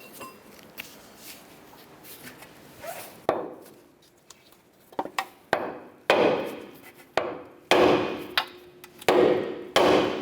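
Hammer striking the steering knuckle of a 2008-2012 Honda Accord to free the upper ball joint, a series of sharp metallic blows, sparse at first then coming in quicker, forceful hits, close and loud.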